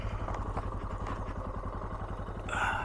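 A Suzuki DR650 motorcycle engine runs with a steady, close, throbbing thump during a ride, with a rise in roar near the end.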